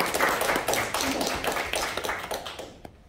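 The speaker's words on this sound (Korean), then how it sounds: "그날을 우리가 기다리는 박수 한번 주세요" A crowd in a university lecture claps steadily for about three seconds, a dense patter of many hands that fades out at the end.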